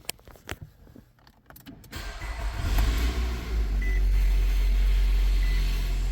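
A 2014 Nissan Altima with a CVT and an exhaust heat shield rattle: a few clicks and clunks, then the engine starts and settles into a steady, close, loud idle rumble.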